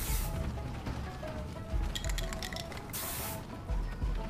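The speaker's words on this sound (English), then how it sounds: "I got spray paint." In Goat Simulator 3, a spray paint can hisses in short repeated bursts while tagging a wall, layered over faint game ambience and mechanical clicks.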